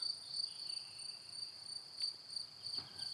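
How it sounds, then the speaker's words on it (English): Cicadas in the Bucovina countryside of Romania shrill in a sustained high-pitched drone that pulses gently, with a few faint clicks and no voices. "Cicadas."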